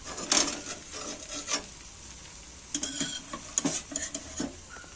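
A spatula scrapes and clinks against a pan while an onion thalipeeth roasts, giving a few brief metallic scrapes and taps up close over a steady sizzling hiss.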